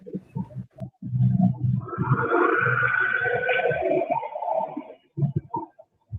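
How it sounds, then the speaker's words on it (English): A siren wails in a long sustained tone for a few seconds, rising into the foreground between softer surrounding noises before cutting off. "I thought that was a siren for a second."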